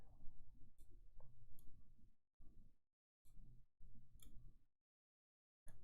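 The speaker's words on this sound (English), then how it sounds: "I know you guys can hear my keyboard." Keyboard clicks from a computer setup while scripting a Roblox skill tree, in short bursts of quick taps separated by brief silent gaps, close and fairly quiet.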